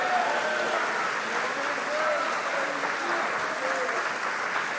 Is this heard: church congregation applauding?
yes